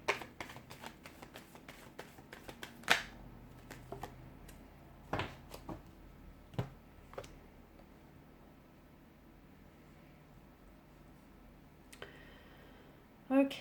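Cards being shuffled close by, a burst of quick riffling clicks early on, then quieter scattered shuffles with a short flurry near the end.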